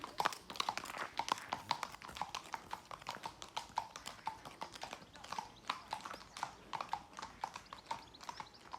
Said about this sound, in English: Wow, that's a big horse, isn't it?